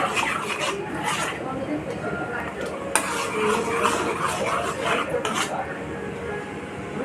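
A mixture is whisked vigorously in a bowl, a steady scraping, clinking rhythm close by that runs throughout beneath a voice.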